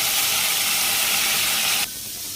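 Tomatoes fry in hot oil in a pan with a loud, steady sizzling hiss that drops abruptly to a quieter sizzle near the end.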